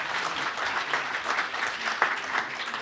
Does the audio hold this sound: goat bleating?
no